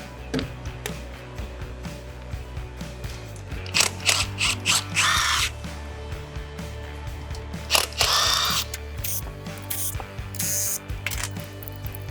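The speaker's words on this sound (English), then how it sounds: "Now we're going to use the 8mm socket to remove the cover." Ratchet with an 8mm socket backing out clutch cover bolts on a CSC RX4 motorcycle, heard as bursts of close, rapid clicking with short pauses between them, over a steady low hum.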